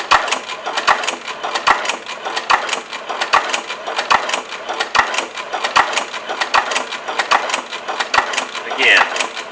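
A sewing machine stitches through leather with a steady run of sharp needle punches, roughly two or three per second, close and fairly loud and continuing without a break.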